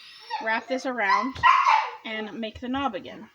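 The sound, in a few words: dog barking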